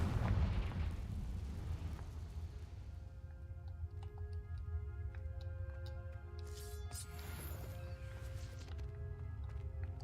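Confringo fire spell cast in Hogwarts Legacy, a loud booming blast at the start that rumbles and fades, followed by crackling ticks, tonal game effects and a second burst later.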